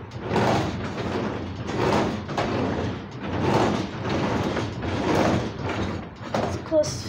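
A garage door is pushed open by hand, giving a rolling, rattling mechanical rumble that swells and fades in several repeated surges, fairly loud and close, with a brief higher squeak near the end.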